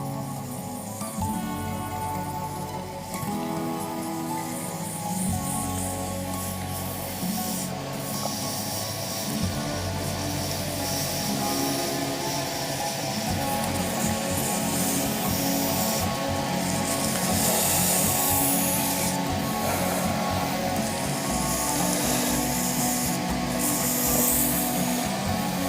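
Blue and gold resin cast blank for a shaving brush being dry sanded on a spinning lathe, a continuous loud rushing hiss and whir of the motor and abrasive that holds steady throughout.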